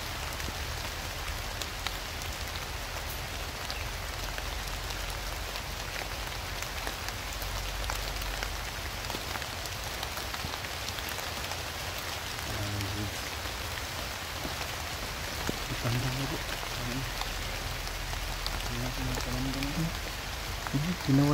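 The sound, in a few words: heavy rain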